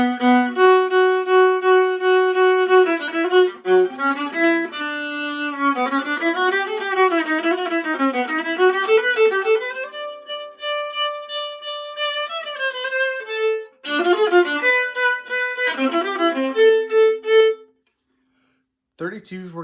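A solo viola plays an orchestra audition excerpt from bar 27 in a long, clear line of bowed notes with frequent string crossings and short pauses, close and unaccompanied, ending in silence.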